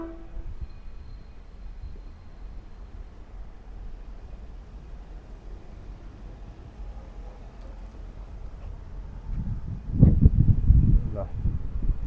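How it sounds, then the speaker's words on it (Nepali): Locomotive engines of a freight train, running without wagons, rumble past on a Melbourne street walk, the low roar swelling loudly near the end over a windy outdoor background. "ट्रेन पनि एउटा आएछ, सामान बोक्ने ट्रेन छ, त्यसको तर इन्जिन मात्रै आइरहेछ।"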